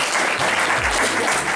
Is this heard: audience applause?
yes